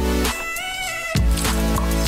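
A cat meows a couple of times, drawn-out and close, over a steady droning hum during a desert motorbike trip.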